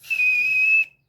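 A single high, steady whistle tone held for under a second, close and clear, made by a voice imitating a whistling sound.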